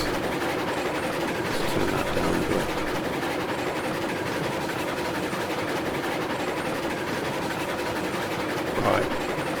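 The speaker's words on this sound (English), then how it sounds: "Quite loud, the sound is on these trains." A model train runs loudly around a new track layout, a steady broadband rumble with rail clatter throughout, close and continuous with no talk.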